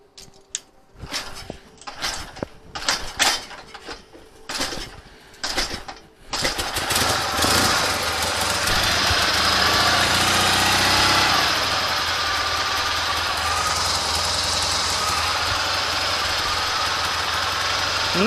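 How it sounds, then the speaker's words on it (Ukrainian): Engine fitted with a restored K-37 carburetor starts after a few rough, uneven bursts, then settles into a loud, steady elevated idle with a constant close-up drone. "нас зараз двигун працює на дещо підвищених холостих обертах, тому що ми газом можемо регулювати"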